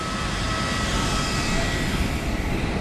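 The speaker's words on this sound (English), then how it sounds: "There's our aeroplane." Airplane at an airport in Tanzania in the early morning, a steady loud roar of engine noise filling the scene without pause.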